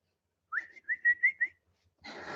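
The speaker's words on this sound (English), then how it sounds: "I can't whistle very well" A person whistles a short run of about five breathy, slightly wavering notes up close, followed by a burst of rustling noise.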